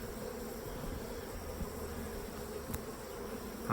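Honey bees buzz around a hive in a queen castle setup, a steady close swarm hum with a faint sharp click partway through and no talk.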